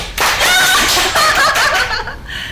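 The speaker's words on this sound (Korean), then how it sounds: "선생님들 빨리 박수" Quick burst of clapping from a small group of teachers at a church youth live broadcast, dense and close for about two seconds, mixed with chuckles and laughter before fading out.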